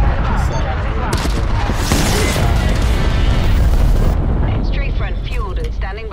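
Heavy rumbling explosions from a strafe run in Call of Duty: Black Ops Cold War, on the Zoo map, roar continuously and loud, with dense booming blasts and crackling debris while a voice talks over them.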